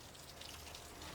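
Rain falls steadily outside beside a patio shelter under construction, a faint, even hiss of drops on surfaces throughout with no voices.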